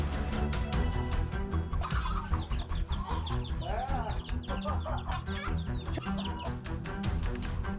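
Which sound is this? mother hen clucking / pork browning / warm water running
mother hen clucking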